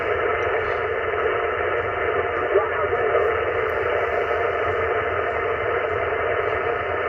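On the 160 m ham radio band, a steady band of hissing static and noise runs throughout, loud and unbroken, with a muffled, garbled voice faintly present under the noise.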